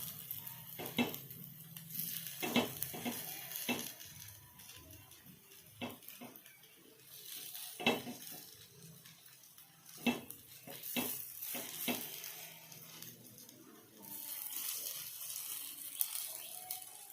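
Chettinad kara kuzhi paniyaram being turned in a paniyaram pan, with scattered clinks and scrapes of a utensil against the metal over a steady frying sizzle, no talk.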